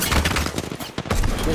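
Rapid bursts of gunfire from the video game Apex Legends crackle loudly and almost continuously. The shots run together like a fusillade, with brief dips between volleys.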